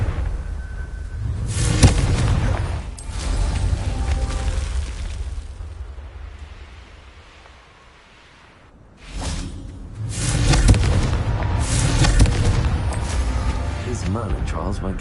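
Confringo fire spells in the wizarding game Hogwarts Legacy burst in repeated whooshing, booming blasts, with a quieter lull between two loud stretches of rumbling explosions.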